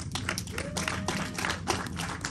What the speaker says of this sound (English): everyone give a round of applause for the moonfish